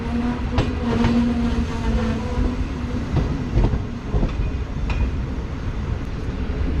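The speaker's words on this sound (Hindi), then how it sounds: "तो ये एक ट्रेन आ रही है हमारे पास डाउन में, सॉरी अप में।" Train drawing into a small railway station on the Islamabad line, a steady rumble with intermittent clacks and faint squeals, moderately close and continuous, with no voices.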